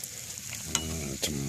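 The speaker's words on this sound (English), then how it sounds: "Listen to that sizzle." Food frying in a hot pan during home cooking, a steady sizzle with brief clinks or stirring knocks near the start and again a moment later, close and fairly quiet.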